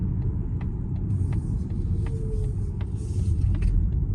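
Steady low road rumble and engine hum from a 2025 Mazda CX-50 Hybrid driving on a back road at night, continuous and fairly loud from inside the cabin with faint ticks above.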